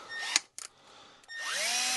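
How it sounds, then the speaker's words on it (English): A regular power drill spins a 3-inch sanding and polishing pad in two short whining bursts that rise in pitch as it spins up, separated by a brief pause, close and clear. "You also can use it in just a regular drill"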